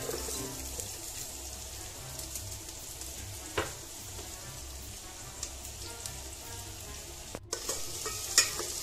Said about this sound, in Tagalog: Lutuin lang natin guys ang sibuyas hanggang sa maging light brown.